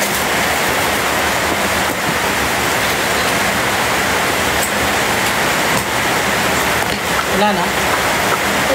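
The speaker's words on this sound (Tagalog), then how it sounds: "Umuulan, oo." Rain falls steadily outdoors as a continuous loud hiss, with a brief spoken question over it.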